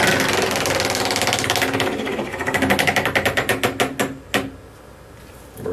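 A prize wheel spinning during a prize draw, heard as a loud, rapid ratchet of clicks that slows into a few spaced ticks before stopping, close and with no speech over it.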